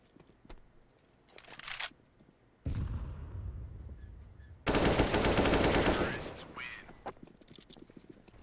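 Gunfire from a Counter-Strike match on the Vertigo map, with bursts of automatic fire and shots in loud dense stretches, mixed with game sounds and a commentator speaking over parts of the action.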